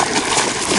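A freshly caught Clinch River catfish thrashing and splashing water, a brief, loud, close burst of splatter.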